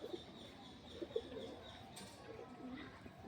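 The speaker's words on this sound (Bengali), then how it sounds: "দারুণ সুন্দর কবুতর" Giribaz and Madras pigeons cooing quietly in a loft, a few soft, low gurgling calls scattered over a hushed background, distant and faint.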